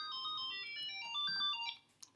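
A telephone rings with a melodic electronic ringtone, its tones shifting up and down for about two seconds, faint and slightly distant, before it cuts off.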